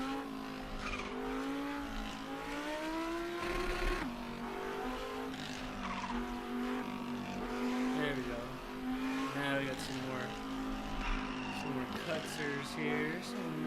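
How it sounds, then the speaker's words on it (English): In a Japanese rush-hour traffic driving game, a car engine revs high and bounces off the rev limiter, with a steady buzzing drone, shifting pitch and squealing tires throughout. "I guess I love the bouncing off the rev limiter in this car."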